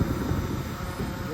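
A Wing 6 GPS aerial photography drone flies outdoors in wind, giving a steady buzzing rotor drone mixed with wind rumble across the short stretch.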